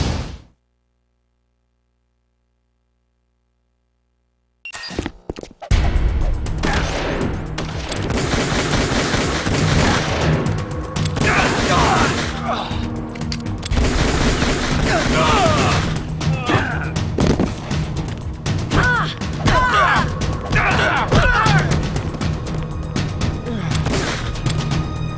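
Gunfire in Metal Gear Solid: The Twin Snakes kicks in loudly after a few seconds of silence, with rapid automatic bursts and single shots firing nearly nonstop and voices talking over the shooting.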